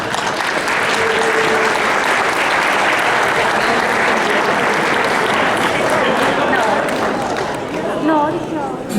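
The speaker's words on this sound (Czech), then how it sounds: "A už si můžete zopakovat potlesk." Audience applause before a dance performance, a dense and loud sustained clapping with crowd chatter and voices mixed in, continuing steadily through the whole stretch.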